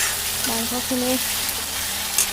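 Meat cooks in a pan with a constant close sizzle and bubbling, while a voice speaks briefly over it.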